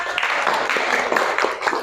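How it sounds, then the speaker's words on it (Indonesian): A classroom of students applauds together, a dense patter of hand claps filling the short moment at close range with no talk over it. "Terima kasih, boleh tepuk tangan."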